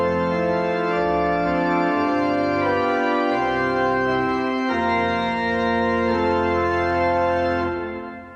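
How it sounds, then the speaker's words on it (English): A full pipe organ plays rich, sustained chords with many stops combined, loud and continuous, before tapering off at the end. "you're going to hear kind of a little bit more full organ sound"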